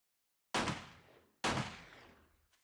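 Two loud gunshots from the video game 7 Days to Die crack out about a second apart, each with a long decaying echo, followed by a faint third pop.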